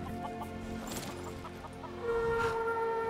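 Chickens clucking in the video game Skyrim, a cluster of short fowl calls and clucks over a steady game-music bed, moderately quiet, with a brief louder bird call near the end.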